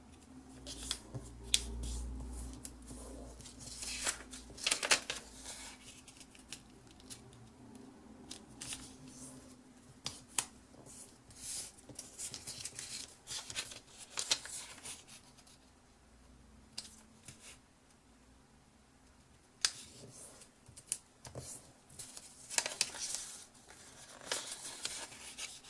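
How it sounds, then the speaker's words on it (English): Paper being folded and creased by hand for a 3D star bauble, close-up crinkles, soft scrapes and sharp crease taps coming in irregular bursts with quiet gaps between. "open out the piece of paper and fold each of the corners to the middle"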